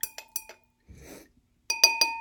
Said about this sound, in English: All right, stir that up a little bit.